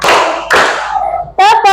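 Schoolchildren clap their hands together in counted groups, first a sharp single clap, then another, then a quick double clap, each loud and close, with a voice sounding briefly between them.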